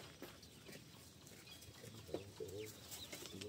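Faint clucking from a chicken amid a noisy outdoor background, with a few short calls near the end.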